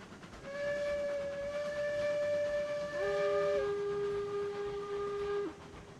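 Steam locomotive whistle signal in Railroads Online, two sustained multi-tone blasts, the second overlapping the first then lower and held to its end, loud and clear over a low rumbling background with no talk.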